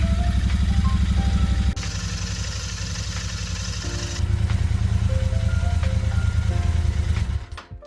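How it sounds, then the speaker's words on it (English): A Royal Enfield Interceptor 650 parallel-twin motorcycle idles to warm up, its close, even engine note running steadily with light mechanical clatter, then cutting off at the end. "let it run for 10 minutes just to warm up the engine a little bit"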